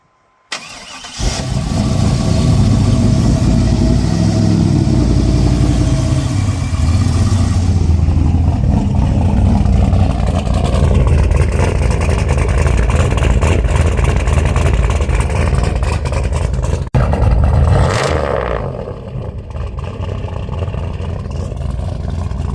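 A car running on E85 fuel starts with a sharp crank, then idles with a deep, rough, loud rumble close by, with a few revs swelling and dropping before it settles back to idle.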